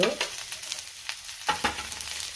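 Ginger, garlic, green chilli and dal are sautéed in oil in a pan, giving a steady close sizzle with scraping stirs and a few sharper clacks of the spatula against the pan, with no talking.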